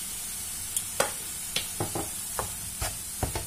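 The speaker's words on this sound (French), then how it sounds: "Je mélange un peu." Wooden spoon stirring a béchamel-based filling with pepper in a pan, a soft sizzle underneath with repeated scraping strokes at irregular intervals, close and moderately quiet, no voices.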